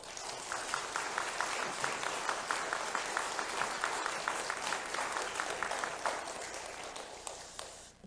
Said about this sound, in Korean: 오광성 목사님 나오실 때 큰 박수로 환영해 주시기 바랍니다.